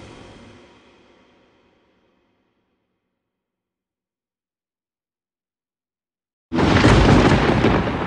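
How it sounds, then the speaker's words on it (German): Severe thunderstorm over the New Mexico desert: a dull rumble fades out over the first two seconds, then after a silent gap a loud, broad roar of thunder or downpour bursts in and holds steady to the end. "Ein schweres Unwetter zieht über die Wüste in New Mexico, USA."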